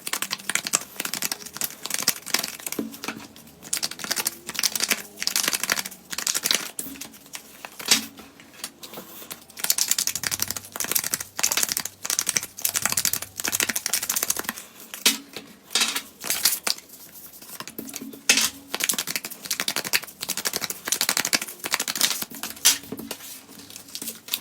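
Tarot and oracle cards being shuffled by hand: repeated crisp papery riffling and slapping bursts in an uneven rhythm, close and fairly loud, with short pauses between bursts and no voices.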